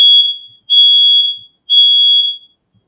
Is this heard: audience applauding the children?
no